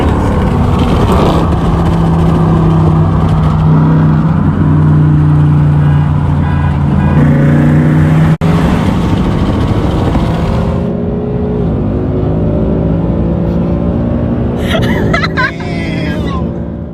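A manual-transmission Ford Mustang GT carrying four people accelerates hard in a race against a Scat Pack, its engine roaring loudly and steadily with rising tone, then easing off as talking is heard inside the car.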